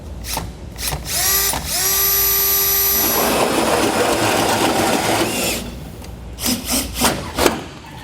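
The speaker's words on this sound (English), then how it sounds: "I'll go ahead, put my pilot hole right exactly where I made my mark, and then we'll start drilling away" A power drill whines up with a rising pitch, drilling a pilot hole into a 2013 Ford truck bed frame for a fifth-wheel hitch, grinds steadily for a few seconds before stopping, followed by a few short bursts.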